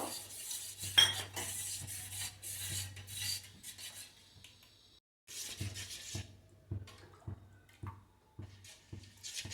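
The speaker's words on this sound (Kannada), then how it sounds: "ಗಂಟು ಕಟ್ಟದ ಹಾಗೆ ಮಿಕ್ಸ್ ಮಾಡಿಕೊಳ್ಬೇಕು" A spoon scraping and clinking against a pot while ragi flour is stirred into water, with rhythmic repeated strokes, close and fairly quiet, and a brief pause midway.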